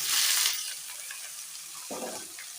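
Green jackfruit fries with potatoes in a pan for a vegetarian curry, a hissing sizzle that is strongest at first and then eases, with a brief burst of stirring or fresh spitting near the end, heard close and alone.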